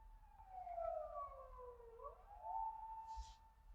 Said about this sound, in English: There's a siren going on right now.